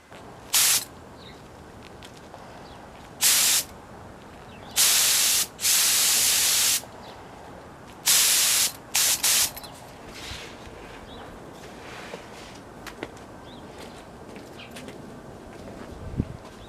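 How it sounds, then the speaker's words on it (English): Spray gun laying clear coat on a Ducati 888 motorcycle fairing, several loud hissing bursts of varying length, some over a second long, separated by quiet pauses, with faint background noise between. "It's time to spray clear."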